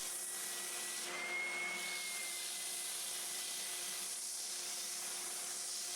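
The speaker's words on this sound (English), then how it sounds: "so I'm going to smooth that off on the sander." A belt sander with an 80 grit belt smooths the bandsawn edge of a wooden clapper, a steady, continuous whirring drone with faint rubbing as the wood is pressed against the belt.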